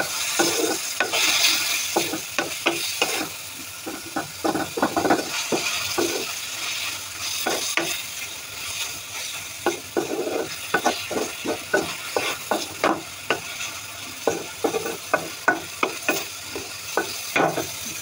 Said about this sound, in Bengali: তেলের উপর পেঁয়াজ মশলার উপরে ভাজা হবে।